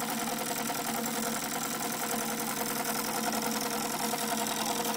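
An engine fitted with an AccuSpark electronic ignition conversion runs steadily at idle, giving a constant, close mechanical chatter with even ticking and no voices.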